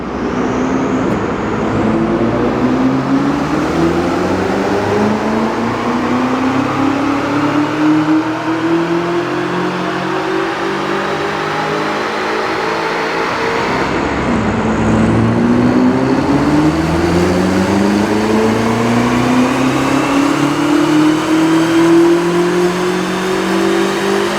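A BMW X5M's engine revs hard on a dyno, pulling up through the gears in two long loud sweeps with a brief dip between, steady and close with no talking.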